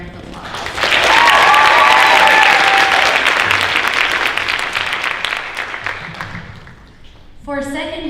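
A school auditorium audience at a senior honors night breaks into loud, dense applause with a few whoops. It swells quickly, holds, then fades, and a voice starts speaking at the very end.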